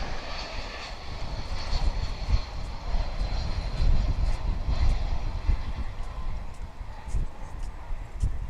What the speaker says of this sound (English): That was American Flight 2517 coming in from Calgary in Canada